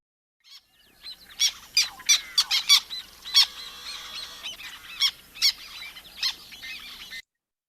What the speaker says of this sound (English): our black tern does these harsh squawky noises